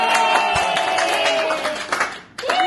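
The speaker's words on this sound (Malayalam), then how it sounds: "എല്ലാരും ക്ലാപ്പ്" People clap together at a baby's first birthday cake smash, a dense run of claps over steady background chatter and a tonal hum, briefly dropping before resuming.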